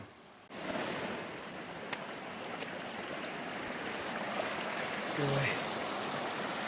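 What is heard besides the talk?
snowmelt stream flowing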